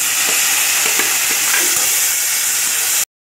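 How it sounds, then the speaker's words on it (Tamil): Native tomatoes sauté in a pan with shallots for mint chutney, giving a steady, loud, close sizzle and crackle for about three seconds before it cuts off abruptly. No one speaks. "இப்போ நீங்கள் வந்து நாட்டு தக்காளி ஆட் பண்ணி வதக்கிக்கோங்க"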